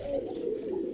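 Pigeons cooing close by in one short, soft, rolling call.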